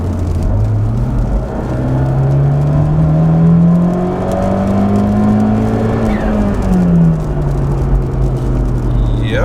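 A big-turbo Abarth 124 engine drones on a dyno, a steady loud hum climbing slowly in pitch then easing off near the end, with faint shop noise around it.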